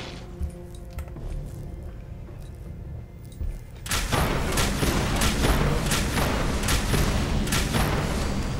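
Weapon fire against synths in Fallout 4: after a quieter stretch, a dense run of rapid gunshots and impacts starts near four seconds and continues loudly to the end.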